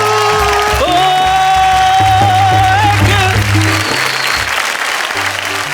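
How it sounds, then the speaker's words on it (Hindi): A live audience at a Hindi kavi sammelan applauds after a poetry recitation: steady, dense clapping over a sustained musical backing, with some cheering mixed in throughout. "बड़ी खुश होकर तालियां बजा रही थी"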